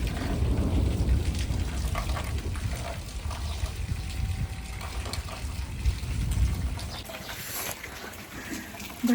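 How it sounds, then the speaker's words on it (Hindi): Rain falls in the Uttarakhand mountains as a steady, broad hiss with low rumbling underneath, fairly close and continuous with no clear speech. "भाई बारिश हो गई है और इतना ठंडा मौसम हो गया।"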